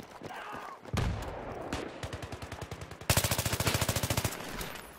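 Automatic AK rifle fire in the video game Battlefield 3, on the Noshahr Canals map: loud rapid bursts with sharp, evenly spaced shots, a short burst followed by a longer sustained volley, with no talking over it.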